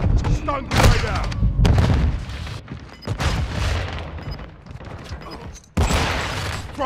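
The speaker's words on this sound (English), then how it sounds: "Stun grenade out!" A stun grenade goes off amid a chaotic firefight in Call of Duty: Modern Warfare II, loud booming blasts and gunfire bursts stacking up in quick succession, with a sharp fresh burst near the end.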